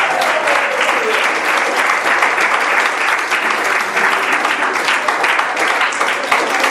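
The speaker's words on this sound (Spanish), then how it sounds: "Da un fuerte aplauso al Señor" A church congregation breaks into loud, sustained applause, a dense wash of clapping that holds steady throughout with no speech over it.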